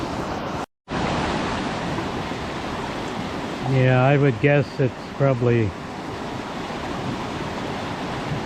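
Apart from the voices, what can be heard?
flooded creek rushing water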